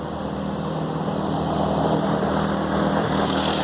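Mega Moto 212 Pro mini bike with a 212cc engine and torque converter runs steadily nearby, a loud, even buzzing drone with no pauses and no talking.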